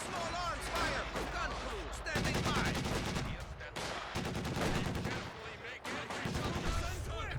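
Machine gun fire in the real-time strategy game Company of Heroes 2, bursts of rattling shots mixed with heavier battle blasts, moderately distant and layered under a commentator's talk.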